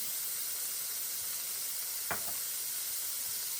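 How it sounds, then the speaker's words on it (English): Tikka masala cooking in a restaurant-style pan, giving a steady loud hiss of sizzling sauce throughout, broken once by a brief scrape of stirring. "and cook, stirring gently for 2 minutes."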